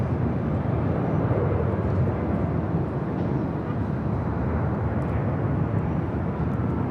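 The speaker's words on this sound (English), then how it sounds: "This is Southwest Airlines 1973 coming in from San Antonio. Sorry. It's a 737-800." A Southwest Airlines Boeing 737-800 arriving at LAX from San Antonio produces a steady, broad roar of jet engines, loud and constant throughout with a deep low rumble and no talking.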